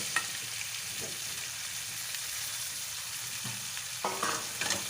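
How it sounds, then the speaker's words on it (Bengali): Raw banana and potato stir-fried with onions in a wok: a constant sizzle with a spatula scraping and stirring, close and fairly quiet, the stirring growing busier near the end and no talking. "ভালো করে নাড়াচাড়া করে নেব।"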